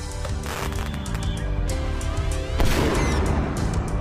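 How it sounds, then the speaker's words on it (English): Firecrackers set off by a crowd of skiers and snowboarders celebrating the season opening at a ski resort, a dense ongoing crackle of pops and bangs with one louder burst partway through, moderately loud and echoing. "People light firecrackers."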